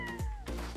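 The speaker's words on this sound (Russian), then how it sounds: "Мяу, да." A cat in the Don't Starve video game meows twice in quick succession, clear and close, with a faint game tone running underneath.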